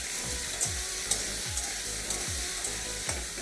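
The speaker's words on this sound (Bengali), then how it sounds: "আলু কটা একটু আগে ভেজে নেব।" Diced potatoes with turmeric and salt fry in hot oil, a steady close sizzle broken by rhythmic scraping stirs about every half second.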